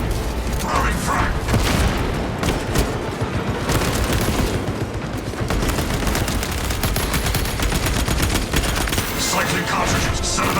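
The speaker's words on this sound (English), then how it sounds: "Throwing frag." Frag grenade blast amid heavy gunfire in the Warhammer 40k Space Marine 2 video game, a dense, loud barrage of rapid shots and booms running throughout, with game voice lines over the combat.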